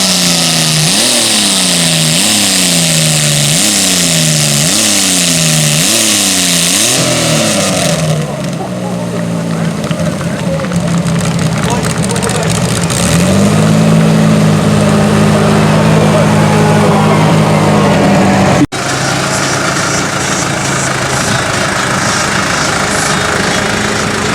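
A racing garden tractor's small engine revs hard in repeated rising bursts, then roars at steady high speed before easing into a lower drone, loud and close.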